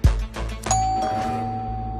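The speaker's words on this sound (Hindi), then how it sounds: "कि 12:45 को डोरबेल बजी?" A doorbell rings once with a two-tone ding-dong in a crime drama, preceded by a soft knock or thump and followed by a long ringing decay, clear and close.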